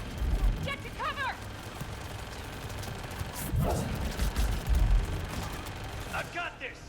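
Heavy guns in Mass Effect 3 fire in repeated booming bursts during a firefight, with squad voices calling out between the shots and a busy combat backdrop.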